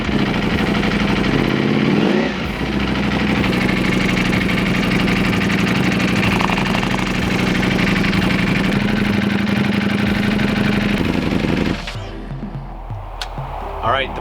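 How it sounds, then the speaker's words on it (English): A motorcycle engine idles steadily with a low, even rumble, loud and close, briefly revving near the start before settling, then dropping off near the end. "Now we're gonna turn on the bike and we're gonna make sure that the engine sounds good"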